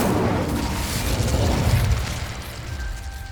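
Casting the Incendio fire spell in Hogwarts Legacy sets off a loud whooshing burst of flame with a deep rumble that trails off over about three seconds.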